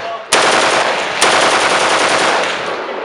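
A full-auto gun at a spring machine-gun shoot rips off loud, close bursts of rapid fire, with a sharp onset and a second burst about a second later. The firing ends with a sustained rattling tail.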